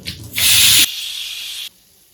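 A kitchen tap gushes into a hard-water sink while three eggs are rinsed, a loud close hiss that swells abruptly, holds for about a second and then cuts off.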